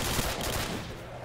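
Dense, continuous gunfire in Call of Duty: World at War, including an M1911 pistol, a loud, unbroken rattle of rapid shots filling the whole moment with no pauses.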